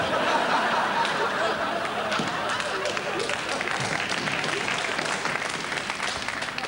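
A comedy club audience claps throughout, a dense, steady applause with scattered chuckles and some voices mixed in.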